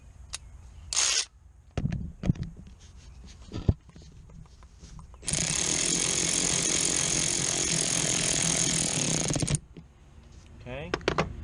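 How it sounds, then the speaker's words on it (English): Tightening down a headlight part on a Toyota during an HID install: scattered close mechanical clicks and knocks, then a loud steady buzzing power-tool run of about four seconds, followed by a few more taps. "Let me tighten it down real quick."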